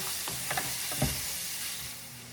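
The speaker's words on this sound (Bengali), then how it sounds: "তো মাংসের জন্য মশলা কষিয়ে নিচ্ছি।" Spice paste for beef curry fries and sizzles in a pan as it is stirred, a soft steady hiss with a few scraping stir strokes, fairly quiet and with no talking.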